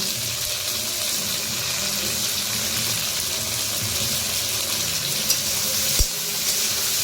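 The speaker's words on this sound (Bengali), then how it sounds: "চলুন বন্ধুরা আমরা এটাকে একটু ভালো করে ভেজে নিই" Onion, capsicum, beans and carrot fry in a pan, giving a steady, close, hissing sizzle throughout, with a couple of sharp clicks near the end.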